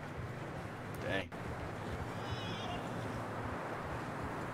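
A horse whinnies in Red Dead Redemption 2: a single short, bright neigh about a second in, set against a steady wash of game ambience and hoof noise.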